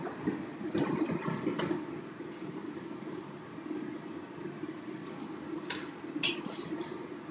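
Noodles dropped into a bowl of cold water, giving a steady watery swish and rush with a few louder splashing bursts and light clinks of dishes, close by and alone.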